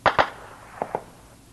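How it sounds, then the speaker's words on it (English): Two pairs of sharp cracks, the first pair louder and the second fainter, echoing like distant gunshots in a quiet night in Darfur. "As night falls, gunfire is a regular feature."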